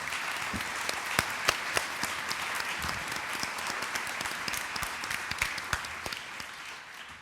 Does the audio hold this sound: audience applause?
yes